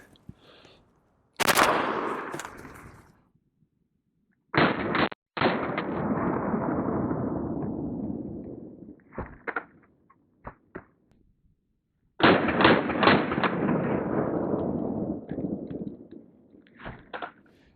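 A UMP submachine gun fires bursts of .40 caliber rounds into a Level III+ body armor backpack insert outdoors, each burst loud and sharp, trailing off in a long rolling echo, with a few separate single cracks in between.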